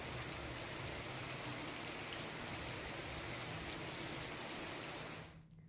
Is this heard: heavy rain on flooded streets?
yes